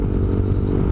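A motorcycle engine fitted with a replaced aftermarket exhaust pipe runs nearby with a loud, deep, steady idle rumble for a second, with no talking.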